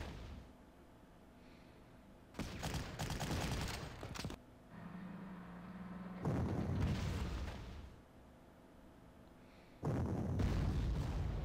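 Artillery fire in the strategy game Panzer Corps, including towed guns, arriving as several separate rumbling barrages of booms and blasts with quieter gaps between them.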